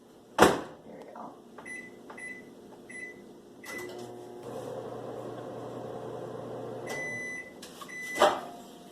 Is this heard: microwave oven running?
yes